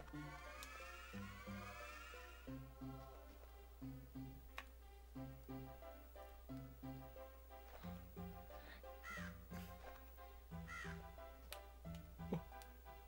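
A raven caws repeatedly in a video game, a series of rhythmic harsh calls over a low, steady game soundtrack with ticking.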